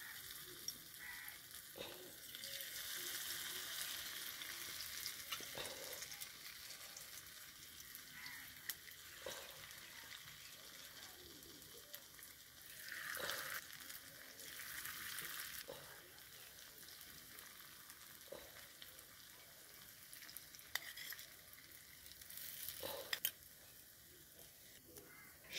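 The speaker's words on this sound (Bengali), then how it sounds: "এক এক করে পেঁয়াজিগুলো তেলে ছাড়লাম।" Miniature onion pakoras sizzle steadily in hot oil, a continuous frying hiss with occasional louder surges and light clinks and stirring sounds, fairly quiet and close.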